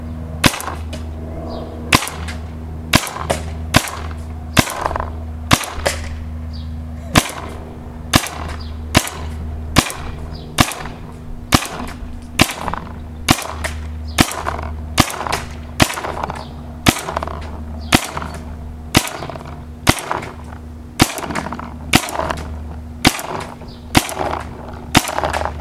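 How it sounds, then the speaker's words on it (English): A series of sharp, evenly spaced gunshots fired at a target 60 feet away, each a loud crack with a short tail. The shots repeat steadily over a constant low background hum. "So I'm just going to shoot it and see how it does."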